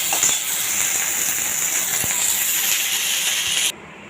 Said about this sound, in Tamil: இதை போட்டு தாளித்து ரசத்தில் போட்டுடலாம்.